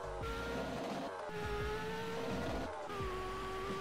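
A drag race car in the Roblox game Drag Project Future accelerates hard through the gears, heard from a first-person view. The engine roars steadily and loudly, with brief dips at each shift and no talking.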